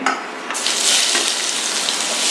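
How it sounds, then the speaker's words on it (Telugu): Chopped onions frying in about two spoons of oil in a pan for an eggplant curry, a loud steady broadband sizzle that jumps up after a brief quieter start and holds evenly throughout, with no talking. "ఆనియన్స్ అన్ని ఫ్రై చేసుకున్నామండి"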